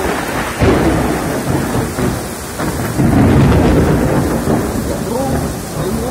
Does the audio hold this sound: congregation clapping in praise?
no